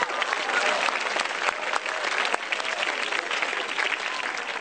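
An audience at an Indonesian stand-up comedy show applauds in a dense, sustained burst, heard from within the hall with faint crowd murmur underneath.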